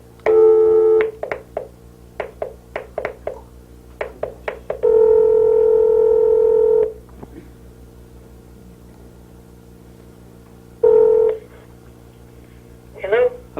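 For a phone-a-friend call on a 2003 game show, a quick run of telephone dialing tones plays, then long electronic ring tones sound, loud and close over a low steady hum.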